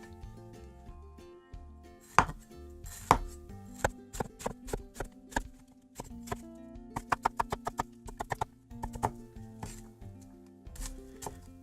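A knife slices through an onion on a cutting board, crisp close taps arriving in irregular bursts, some single and some in quick runs, with quiet gaps between.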